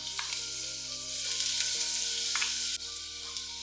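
Ginger garlic paste sizzles and fries in hot oil for a chicken biryani, a steady close, bright crackle running throughout with a slight shift partway, no voices.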